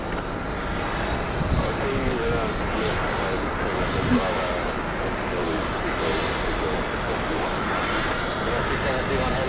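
Plane spotting at JFK airport: steady broadband roar of fixed-wing aircraft engines fills the scene at moderate distance, with a continuous even wash and no clear pass-by peak, while faint voices murmur underneath.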